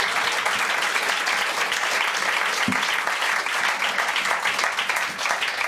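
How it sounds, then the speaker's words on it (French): An audience at a book talk with James Ellroy bursts into sustained, dense applause, many hands clapping steadily and loudly for several seconds without pause. "ça aussi, ça s'applaudit"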